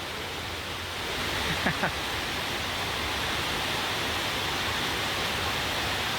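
Rain pours steadily on an outing to a waterfall, a dense, even hiss that swells slightly after the first second and stays constant, with a couple of brief faint squeaks partway through and no talk.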